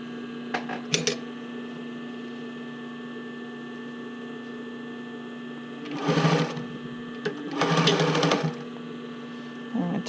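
A home sewing machine stitches bra cups into the band of an Ivy bra with cup overlay, running in two short loud bursts of rapid whirring separated by pauses, close by over a steady background hum.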